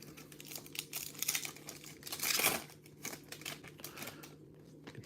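Foil packs of 2024-25 Topps Chrome UEFA Club Competitions trading cards are torn open, with close crinkling and ripping that rises into a loud tearing burst midway before easing off into quieter rustles.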